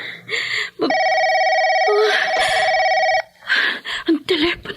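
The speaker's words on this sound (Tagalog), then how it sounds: "Ang telepono." A telephone rings with a steady electronic bell tone for about two seconds in the middle, loud and close, with voices talking before and after it.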